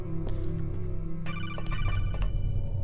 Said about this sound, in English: Oh, phone call. Not phone call, codec even.